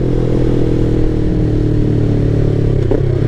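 Yamaha MT-03 motorcycle with an aftermarket Ransoto exhaust, a loud, close, steady engine drone with a brief blip of throttle near the end.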